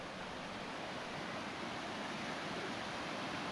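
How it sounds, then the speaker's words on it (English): Leura Waterfall pours in a steady, dense roar of falling water, continuous and close, with no voices over it. "I'm pretty sure this is Lura Waterfall."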